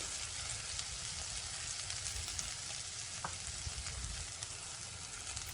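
Bell peppers with ginger and green chili sauté in a hot pan. A steady, close sizzle crackles throughout, with a faint clink from the pan partway through.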